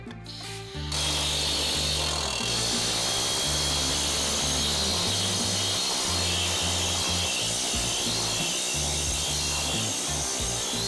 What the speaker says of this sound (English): It's just a planishing hammer, but it's a hoop style hammer.